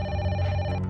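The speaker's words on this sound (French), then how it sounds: "Il est 18 h lorsque le téléphone de Janine sonne" A telephone rings in a Paris home at six in the evening, a steady electronic tone sounding continuously and fairly loud throughout the brief moment, with a low hum underneath.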